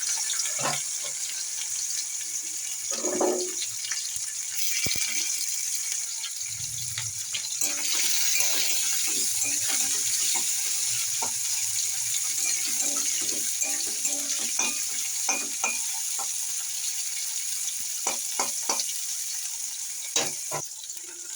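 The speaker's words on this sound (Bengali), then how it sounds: "তারপরে আমি উচ্ছেগুলো আগে একটু ভেজে নেবো" Bitter gourd frying in hot oil with bay leaf and radhuni makes a steady, bright crackling sizzle, broken by occasional clinks and stirring knocks, with no voices.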